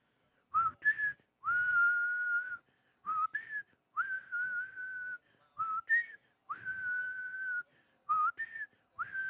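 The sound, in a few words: imitation of a party whistle tune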